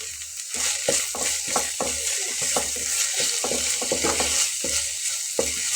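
Ground spices are worked into a green chili bhorta with steady rhythmic scraping and stirring strokes against a pan, close and continuous over a soft sizzling hiss, with no talking.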